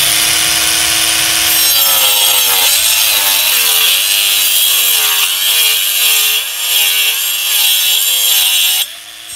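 A hand cutting tool sawing through a soft pine board, trimming off a narrow strip, loud and close with a steady rasping stroke that settles into a rhythmic back-and-forth pattern before stopping abruptly near the end.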